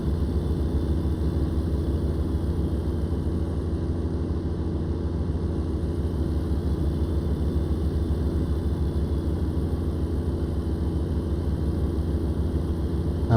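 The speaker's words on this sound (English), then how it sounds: "just the sounds of this game, the truck sounds and everything." A heavy truck engine in the driving game American Truck Simulator drones steadily at a constant low rumble, even and unbroken throughout, with no talking.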